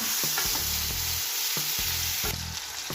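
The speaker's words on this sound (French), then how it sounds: "Je remue." Chicken basquaise with chopped parsley sizzles loudly in a pan, with regular stirring strokes scraping through the frying every half second or so, close and continuous with no talking.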